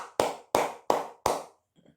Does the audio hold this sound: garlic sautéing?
no